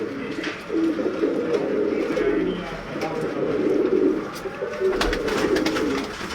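Black-faced Sialkoti pigeons coo close by in steady, repeated rolling calls that overlap one another and continue throughout, with some faint background murmur.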